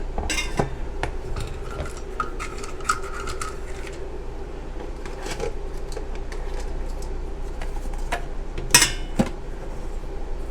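Camp cookware dishes and pots being restacked, with metallic clinks, scrapes and rubbing throughout and a sharper clatter near the end, close and steady with no talk.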